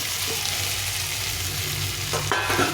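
Cauliflower and previously fried potatoes sauté together in a pan. The loud, dense sizzle is continuous, with a few stirring scrapes toward the end and no voices.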